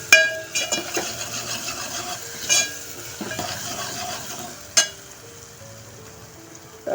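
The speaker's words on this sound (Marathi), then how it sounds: "अर्धा चमचा आलं लसणाची पेस्ट टाकते मी." Ginger garlic paste hits reddening onions in a pan while misal is being made, giving a soft, steady sizzle with stirring scrapes and a few sharp utensil clinks at close range.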